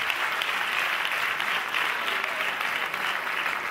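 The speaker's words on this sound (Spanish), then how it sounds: "Fuerte el aplauso para la chica" Audience applause at a stand-up comedy show, a steady wash of many hands clapping throughout, even and sustained, heard alone without talking.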